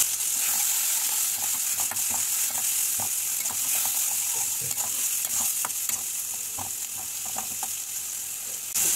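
Spice masala of salt, turmeric, chili, coriander and cumin powder fries in a pan with a constant loud sizzle, broken by repeated scraping strokes of a spatula stirring it.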